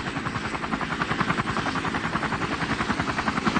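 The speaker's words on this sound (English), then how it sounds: "As the pilot of an attack chopper, you need to complete various missions" An attack helicopter in a 1993 video game gives a loud, continuous rotor thump with rapid rhythmic beating and dense engine roar throughout, close and steady with no talking.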